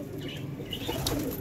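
Pet pigeons cooing softly with a brief flutter of wings, faint and close, amid low background noise before a flight release.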